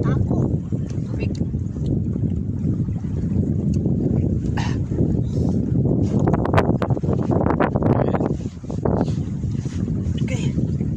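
Strong wind buffets a fishing boat out on open water, a steady loud roar with gusty surges and a brief dip near the end, while a voice speaks over it.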